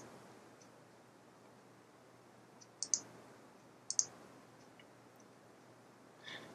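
Computer mouse clicking through a software menu, two sharp close clicks a second apart over faint background hiss, with a softer click near the end.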